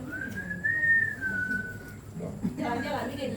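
A person whistles a single long, slightly wavering note, followed by some low murmuring voices nearby.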